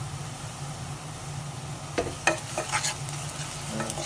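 Onions sautéing in a pan for prawn roast hiss softly and steadily while a utensil scrapes and clinks against the pan several times, close by, with no talking.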